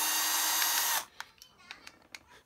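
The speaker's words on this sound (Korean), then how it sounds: "자, 드릴로 한번 열어보면 알지" A power drill whirs loudly and steadily on a broken Smith & Wesson M4506 airsoft BB pistol, then cuts off abruptly, leaving faint clicks and handling noises.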